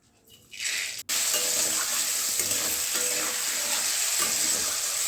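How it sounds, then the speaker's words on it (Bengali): Cabbage drops into hot oil in a home Bengali kitchen alongside a tilapia fish recipe, and a loud, steady sizzle starts abruptly and continues unbroken, close up with no talking. "চলুন বাঁধাকপিটা শুরু করে দিই রান্না করা তেলটা গরম হয়ে গেছে"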